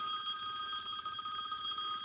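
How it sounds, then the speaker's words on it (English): A mobile phone rings during a home crafting session of cross stitch, English paper piecing and quilting, its electronic ringtone sounding steadily and fairly close for the whole stretch, with no talking. "Oh, my phone's ringing."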